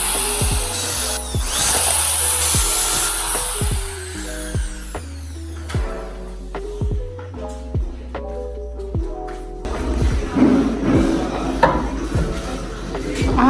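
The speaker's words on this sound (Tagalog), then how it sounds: "sabi ni Roger, dapat daw butasan ahead kasi daw masisira daw yung screw dahil matigas talaga ang wood" Power drill boring pilot holes for screws into very hard wood during house construction, heard as repeated short bursts of whirring with brief pauses between holes, fairly close and steady.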